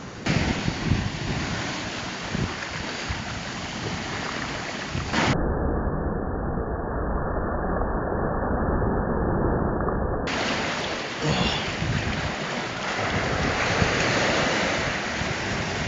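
Ocean surf rolls and breaks continuously, a broad roaring wash mixed with wind buffeting the microphone, no voices.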